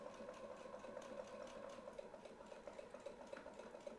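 A sewing machine quilts along a clamshell template, running in a steady fast rhythmic hum with even stitch ticks, quiet and continuous throughout.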